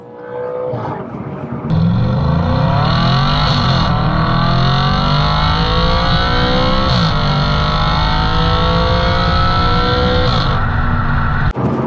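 A loud Audi RS4 Avant 4.2 V8 engine revs up hard and continuously, pitch climbing through a long pull in first gear, with brief shifts and a deep throaty roar throughout.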